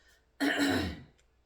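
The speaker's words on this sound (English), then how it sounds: "when I talk on the videos, you'll hear me clear my throat a lot" A man clears his throat once, a short, close, raspy burst that rises sharply and fades out over about half a second in an otherwise quiet room.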